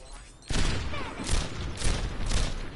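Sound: gunshots from a video game, Overwatch

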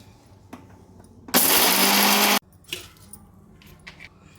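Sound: mixer grinder blending amla and chillies

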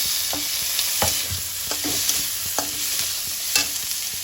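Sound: tomato frying and being stirred in a frying pan

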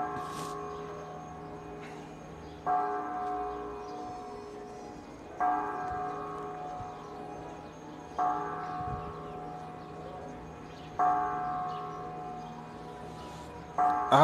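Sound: church bells ringing in a Michoacán village

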